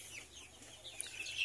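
Free-range chickens cluck softly in a short, faint stretch of overlapping calls set against quiet outdoor background noise.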